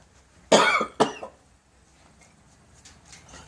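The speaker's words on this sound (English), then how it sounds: "Sorry about that cough," A person coughs twice in quick succession, close and loud, during work restoring antique picture frames, followed by a quiet room with faint rustling.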